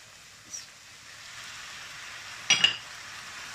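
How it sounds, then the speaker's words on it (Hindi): Tomatoes and spices with Kashmiri chili fry in a pan, giving a steady soft sizzle, with a couple of brief louder crackles or stirring scrapes. "इसमें टमाटर ऐड करते हैं और फिर थोड़ी देर के लिए इसको भूनेंगे इधर इंशाल्लाह।"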